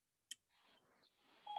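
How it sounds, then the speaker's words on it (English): A mobile phone gives a faint short click or beep, followed by a soft rising electronic tone, quiet and close in an otherwise still room. "That's my phone."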